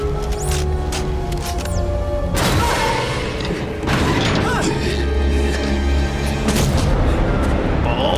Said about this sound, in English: and blow this latch